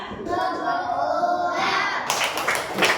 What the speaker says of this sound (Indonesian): Wah, kita kasih tepuk dulu ya.